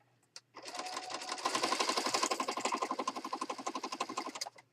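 A sewing machine stitching through a mostly white journal with soft colors, one close continuous run of rapid even needle strokes that slows into distinct pulses before stopping.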